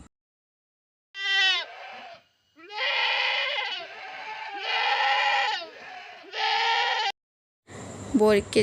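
A young goat bleats several times in a row, loud, close and high-pitched, each cry drawn out with short pauses between.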